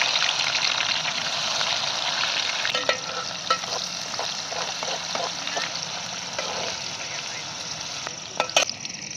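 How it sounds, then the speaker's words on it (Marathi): Sliced onion dropped into hot oil where cinnamon and star anise are crackling, producing a loud, continuous sizzle with scattered pops and spatters, heard close up with faint voices in the background. "आपला दालचिनी आणि चक्रीफूल चांगलं तडताडलं की कांदा टाकते आता"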